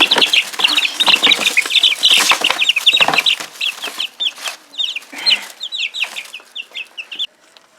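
Baby chicks peep in rapid, high-pitched chirps outdoors on a cold day, a close cluster of busy calls with soft rustling and flutters beneath.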